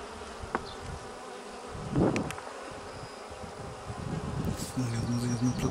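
Honeybees buzz steadily in a hive in a dense, continuous drone, with occasional rustling and a few soft knocks nearby.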